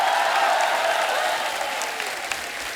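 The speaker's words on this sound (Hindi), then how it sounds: "जोरदार तालियां भाग्यश्री जी के लिए।" Warm audience applause on a TV comedy show stage for actress Bhagyashree, a steady wash of clapping from a crowd that tapers slightly over a few seconds.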